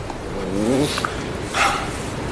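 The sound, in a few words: dog barking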